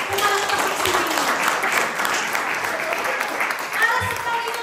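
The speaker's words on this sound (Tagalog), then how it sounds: "Palakpakan po natin ang Panginoon." Congregation applauding at a church child dedication service, a steady wash of clapping that holds throughout at moderate loudness, with voices mixed in.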